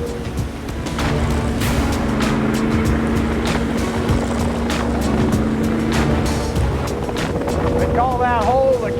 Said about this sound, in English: You can either fly in, or you have Captain Larry bring in with a jet boat.